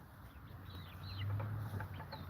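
Turkeys cluck and gobble softly in the distance on a homestead, several birds calling over a low steady background hum.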